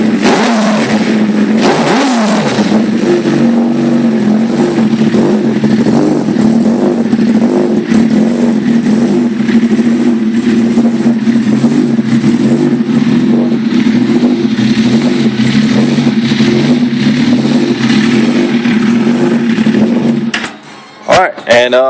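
Suzuki GSX-R motorcycle engine, just fitted with a PCV, revving up and then settling into a steady, fairly loud running note for most of the clip before cutting off at the end.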